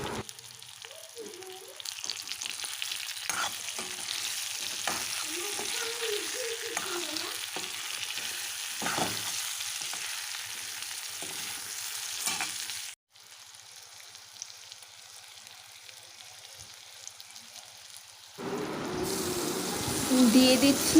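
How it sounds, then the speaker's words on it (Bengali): Potato and eggplant pieces fry in hot oil in a pan, a soft steady sizzle broken by stirring scrapes and someone talking over it, then the frying fades before a louder splash near the end. "এটাকে আলু বেগুনগুলোকে ভেজে নিচ্ছি।"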